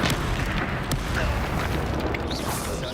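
The Bombarda spell in Hogwarts Legacy detonates as a loud, booming explosion that fills the whole moment with rumbling, crackling debris and no pause.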